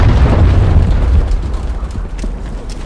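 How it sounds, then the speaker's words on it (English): A cruise missile explosion in Call of Duty MW3: a loud, deep rumbling blast with heavy low end that slowly fades over a few seconds. "Hostiles launched a cruise missile."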